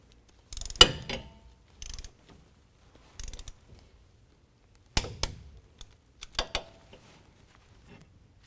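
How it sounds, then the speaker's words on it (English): A torque wrench clicks as flange bolts are tightened on a 6.5-inch lift kit for a 2016 Chevy Silverado 1500, giving several separate bursts of sharp ratcheting and loud clicks up close with quiet gaps between them. "Now we're going to tighten these flange bolts to 45 foot-pounds."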